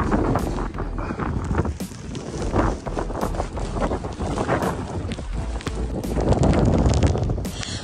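Blizzard wind roars outdoors in snowy Canada, a loud, continuous rushing gust battering the microphone with bursts of buffeting and no voices.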